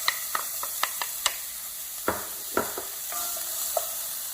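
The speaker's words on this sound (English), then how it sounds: "Saute my onions." Onions sautéing in about a tablespoon of olive oil in a pan, with a steady hissing sizzle throughout and crisp spoon taps and scrapes against the pan at irregular intervals, close and without talking.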